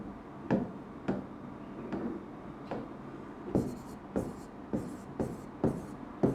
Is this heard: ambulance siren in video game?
no